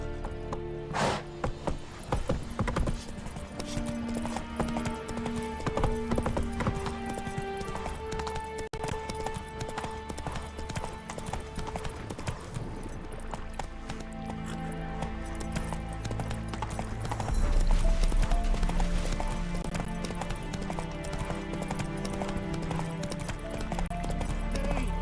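Hooves of a horse galloping in The Witcher 3 game, a continuous rhythmic clip-clop running the whole time over a bed of game music, with a brief louder swell near the end.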